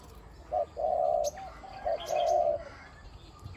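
A zebra dove decoy coos twice, each a short note followed by a longer rolling coo, soft but clear against faint outdoor background noise.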